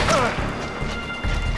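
A loud explosion in the video game Far Cry 4 hits as a sharp crash that spreads into a dense, rumbling burst and fills the short moment before tapering off.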